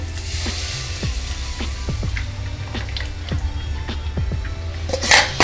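Sautéed spice paste sizzling in a pan as coating batter is poured in, a steady close crackle with soft drips and squishes, a brief louder splash near the end.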